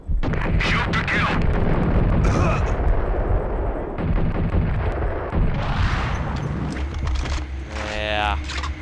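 Gunfire in the video game Max Payne, loud, repeated shots and bursts from a game soundtrack that go on throughout, with someone talking over them.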